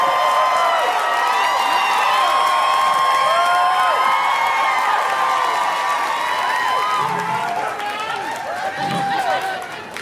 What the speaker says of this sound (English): Start clapping right now for your and my good friend, Josh Johnson, everybody.